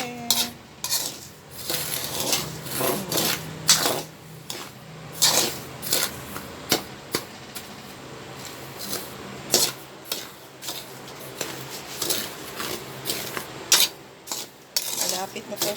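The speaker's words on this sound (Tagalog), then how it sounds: "Halo naman ulit." Coffee beans being stirred while roasting in a pan for homemade natural coffee, a steady stream of metal utensil scrapes and clinks against the pan over a soft sizzle, with no talk.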